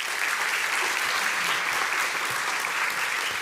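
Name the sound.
audience applause welcoming an ambassador to the stage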